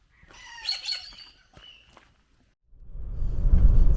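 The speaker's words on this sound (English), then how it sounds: "There's black cockatoos up there." Black cockatoos calling overhead, with a harsh squawking burst at the start and some faint further calls, then a rising rush of wind or movement noise.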